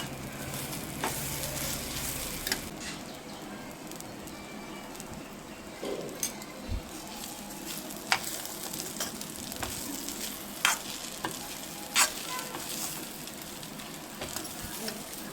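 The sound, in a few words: upma being stirred in a pan with ghee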